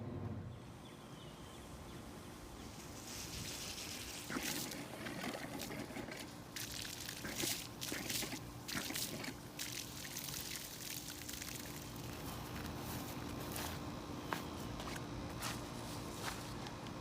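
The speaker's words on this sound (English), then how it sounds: "You saw all the dirty water coming out." Dirty water flushing out of a broken sprinkler feed pipe during a DIY repair, a steady pouring and trickling rush with intermittent splashes and crinkling handling noises, fairly faint and continuous throughout.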